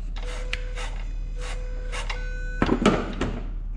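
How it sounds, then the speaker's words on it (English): Close mechanical whirring and buzzing pulses from a car throttle body on a Coyote engine swapped into an S197 repeat several times, each a short motorized sweep, followed by a brief rattling clatter near the end. "you can hear the throttle body doing its thing."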